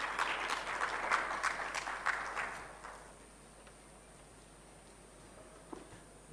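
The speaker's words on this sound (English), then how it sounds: "May we please clap for him as he walks up to the stage." Audience applause at a microfinance tech summit as a guest walks up to the stage, a moderate patter of clapping that fades out after a few seconds into quiet room tone.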